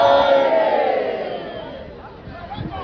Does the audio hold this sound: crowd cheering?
yes